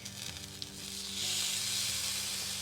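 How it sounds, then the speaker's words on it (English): Loud, steady sizzling as steak hits a hot oiled pan, the hiss swelling and holding close and continuous. "So we're adding in some oil and then our steak."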